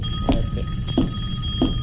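Telephone ringing in a horror video game, three short repeated electronic rings at an even rhythm over a low steady background hum, with no talk.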